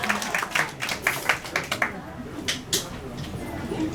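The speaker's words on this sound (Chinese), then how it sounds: "我刚刚好像有看到瞄到有观众没有，他想要尖叫，回来他就变拍手" An audience at a band's live concert claps in scattered bursts, with sharp slaps that thin out into a few isolated claps, and people talking over them.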